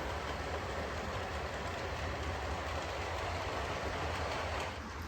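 Continuous low rumbling hum of a model train running steadily along its track, close by, with no talking.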